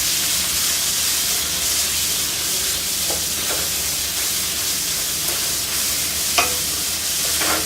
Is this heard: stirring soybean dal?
yes